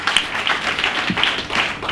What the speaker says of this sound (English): Please give a big round of applause for Hot, Not Hot